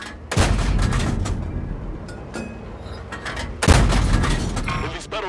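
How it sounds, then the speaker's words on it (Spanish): A tank shot ricochets in World of Tanks with a Cromwell B, two sharp loud booming cannon blasts a few seconds apart, each ringing out over battle noise. "Disparo rebotó."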